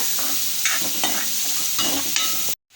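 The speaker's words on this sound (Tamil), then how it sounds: "வெங்காயத்தை வந்து ஒரு அஞ்சு நிமிஷத்துக்கு நம்ம வந்து நல்லா வதக்கிக்கலாம்" Chopped onions sauté in a pan for a tiffin dish, giving a steady close sizzle broken by a few brief scraping stirs; the sound cuts off abruptly near the end.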